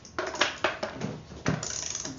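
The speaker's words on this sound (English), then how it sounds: "27 millimeter socket and a torque wrench" A torque wrench with a 27 mm socket tightens a motorcycle chain-adjuster fastener to 81 foot-pounds, giving a few quiet ratcheting clicks and mechanical knocks close by, with no talking.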